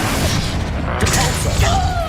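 A fiery spell blast booms out in the wizarding video game Hogwarts Legacy, a deep sustained explosion with crackling debris over steady low rumble, loud and close, under shouted incantations from a player.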